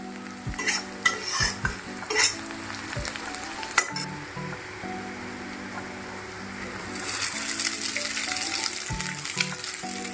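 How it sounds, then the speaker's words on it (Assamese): Carrots and onions fry in a pan for a noodle dish, with sharp metal clinks and scrapes of stirring at first, then a louder, steady sizzle taking over in the second half. "ভাজি আছো মই"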